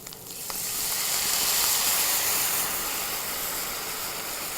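Soy milk and coconut milk mixture poured into a hot pan of browned shiitake mushrooms, bursting into a loud, steady sizzle and hiss that swells after a brief start and holds without talk.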